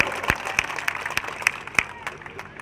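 Audience applause welcoming a guest at a public gathering in India, a dense, steady patter of many hands clapping at moderate distance with a few sharper claps standing out, continuing through the whole stretch.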